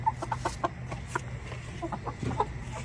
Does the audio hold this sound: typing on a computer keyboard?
no